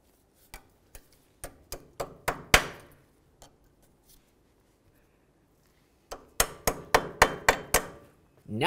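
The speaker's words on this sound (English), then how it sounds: "Let's take a cotter pin, slide it right on through, and then peen it over." A hammer peening over a cotter pin on the outer tie rod end of a 2000-2005 Buick LeSabre, heard as sharp metallic taps in two close bursts of quickening strikes, separated by a quiet pause.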